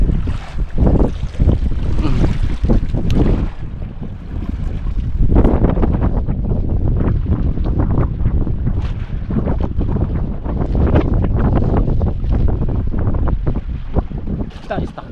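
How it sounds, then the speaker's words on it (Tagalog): Strong amihan monsoon wind at sea buffets the microphone in steady loud gusts, mixed with boat and wave noise, with a voice speaking briefly in the middle. "Lakas talagang amihan ngayon."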